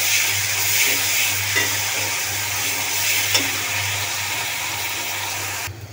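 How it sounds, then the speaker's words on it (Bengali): Garlic paste fries steadily in a pan, giving a continuous close sizzle and hiss with a few soft scrapes from stirring. "ভালো করে নেড়ে চেড়ে নেব।"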